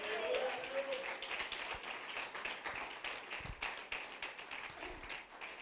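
Church congregation applauding during a Spanish-language worship service, a steady dense wash of clapping that continues under a preacher's voice and other voices throughout.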